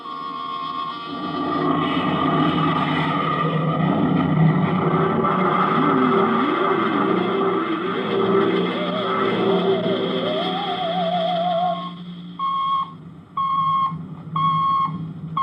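Aircraft taking off as a 1950s radio drama sound effect: a loud, continuous engine roar with a rising, wavering whine, then beeping radio tones near the end.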